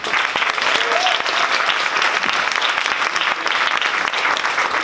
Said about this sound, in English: giving a big round of applause for a lovely hostess and all the nominated in all the categories for today